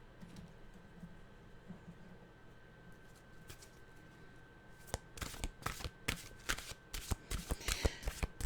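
A deck of mantra cards being shuffled up close, a run of crisp riffling snaps and flutters in the second half after a quiet room-tone stretch.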